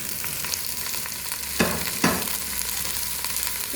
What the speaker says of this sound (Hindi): ऑयल है, गर्म हो चुका है। सबसे पहले इसमें वेजिटेबल शामिल करेंगे।